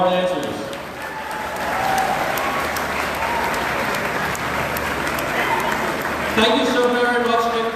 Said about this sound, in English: let's have another round of applause for all our dancers